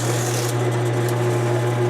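A wooden burl bowl spins on a lathe while 600 grit sandpaper is held against it, giving a steady close motor hum with a soft, even sanding hiss and no talk.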